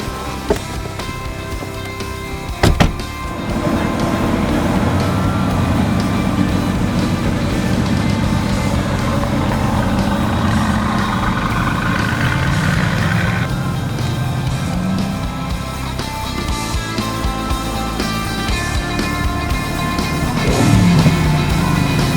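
Mercedes AMG GT sports car engine, a steady loud drone with a sharp thump near the start and a brief rise toward the end, heard without speech.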